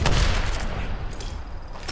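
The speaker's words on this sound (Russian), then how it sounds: "А вы не слышите, что стрельба?" Gunfire in the video game Apex Legends: a dense, loud burst of shots at the start, then a steadier rumble of distant firing with another sharp shot near the end.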